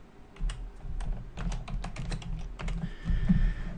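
Keys clatter on a computer keyboard as a password is typed, a quick irregular run of close, crisp taps with brief pauses between them.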